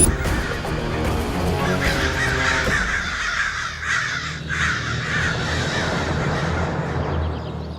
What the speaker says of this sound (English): We are safe from those crows.